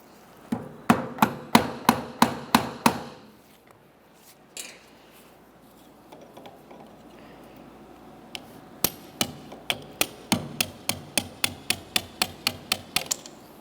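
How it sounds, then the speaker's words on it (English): A hammer strikes a punch to drive a steering column pivot pin out of a 2001-2005 Ford Explorer Sport Trac, sharp metallic blows in two quick bursts of about eight and fourteen evenly spaced hits, close and clear. "So to drive it out, we'll come to the far end, give it a couple bonks,"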